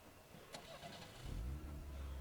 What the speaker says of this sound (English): The car starts moving and the parade crowd passes through behind.